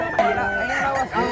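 A bukuwag rooster crowing loudly and close by in a rural setting, one drawn-out call with clucking around it.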